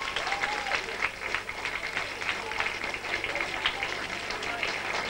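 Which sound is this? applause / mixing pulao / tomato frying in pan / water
applause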